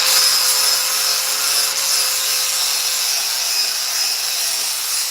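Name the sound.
sanding a carved wooden welcome sign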